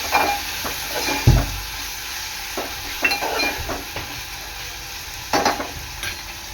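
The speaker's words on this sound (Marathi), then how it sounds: "कांदा टोमॅटो चांगला शिजवून घ्यायचा आहे" Onion and tomato cook in a pan for sukka chicken, giving a low steady sizzle with a few scraping stirs and soft clinks of a utensil against the pan, close by with no talk.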